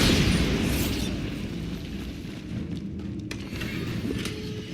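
A Bombarda explosion spell in Hogwarts Legacy goes off with a deep blast that decays into a long rumbling roar, loud and close, followed by a faint crackle.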